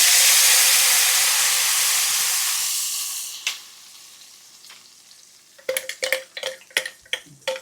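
Ground spice paste hits hot oil for Tamil egg curry, a loud broad sizzle that fades over a few seconds, followed by a run of sharp clinks and scrapes of a spoon stirring in the pan.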